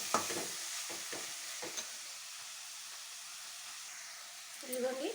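Washed coriander leaves frying in oil with mint for a tomato chutney, giving a soft, steady hiss and sizzle with faint stirring scrapes and a brief voice near the end.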